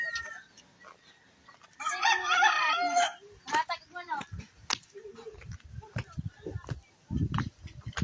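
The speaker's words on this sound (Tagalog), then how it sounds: "Marami pang manok dito oh." A rooster crows loudly and nearby, followed by scattered clucks and rustling among several chickens, with people talking throughout.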